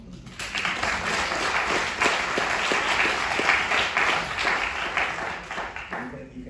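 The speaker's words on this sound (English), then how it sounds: "You can clap" An audience at a conversation event breaks into sustained, even applause from many hands, steady throughout and tapering slightly at the close, with a voice faintly underneath.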